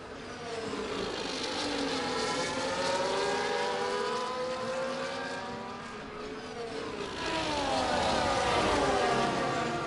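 Race cars on the main straight at Japan in a racing video game, several engines at high revs with rising gear-change whines, one passing close and loud while others drone behind in slipstream.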